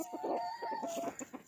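A red junglefowl rooster clucks and crows in a series of close, throaty calls, a short drawn-out note followed by rapid rhythmic clucks.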